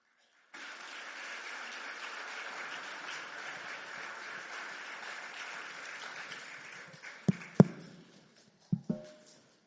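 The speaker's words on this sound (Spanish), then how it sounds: "te pido que recibas con un aplauso a Millín" A crowd claps steadily for several seconds, a broad even patter that fades out, followed by a few sharp knocks and clicks.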